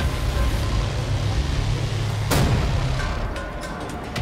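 Gunfire in Wolfenstein The New Order rings over a heavy, steady rumble of combat, with one sharp, loud shot cracking out partway through and the din easing slightly afterward.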